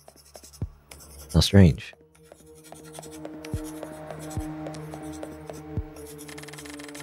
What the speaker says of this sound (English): quill floats eerily, scribbling down on the old scraps of paper.